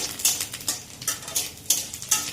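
Green chillies, bay leaf and panch phoron sizzling in oil in a pan for a dal and ridge gourd dish, with a soft hiss under repeated quick metallic spoon strikes and stirring, close by.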